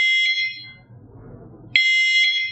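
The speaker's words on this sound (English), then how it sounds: "it will beep every 2 seconds." Two electronic beeps from a waterproof remote dog hunter beeper training collar, each a bright high-pitched tone, separated by a quiet pause of about 1.5 seconds. Both beeps are loud and close.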